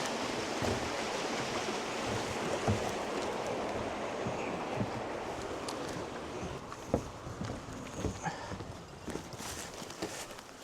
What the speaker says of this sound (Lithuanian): Upelis teka.